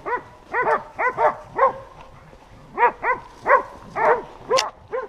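Hunting dogs on a wild boar hunt in Turkey bark in a rapid, uneven series of sharp, yelping barks, loud and close, with a brief pause in the middle.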